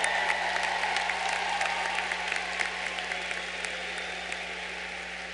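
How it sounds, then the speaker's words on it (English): Audience at a graduation ceremony applauding graduates' families and friends, a steady wash of many hands clapping that slowly fades, no voices over it. "How about a round of applause for them?"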